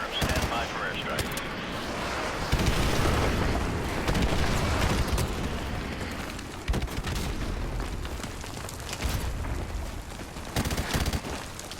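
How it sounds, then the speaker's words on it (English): Airstrike explosions erupt in a PS4 game as a dense barrage of booms, rumbling blasts and rapid gunfire crackle, heavy and continuous for the whole stretch with short dips between volleys. "Stand by for airstrike."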